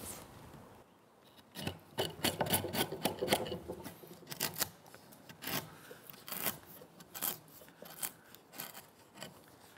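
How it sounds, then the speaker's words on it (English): Paring chisel shaving a wooden tenon by hand for a pegged mortise and tenon joint, a series of close, quiet scraping and slicing strokes in an irregular rhythm with no talk. "Paring chisel here."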